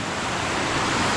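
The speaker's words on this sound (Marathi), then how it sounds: "पाऊस पण भरपूरच पडतोय बघा" Heavy monsoon rain pours down in a dense, steady roar, loud and close, soaking a camera outdoors in a village where a traditional basket trap is set for crabs.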